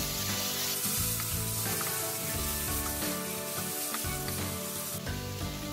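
Vegetables sautéing in a pan with salt, red chilli and turmeric, a loud constant sizzle crackling close up with occasional stirring scrapes underneath.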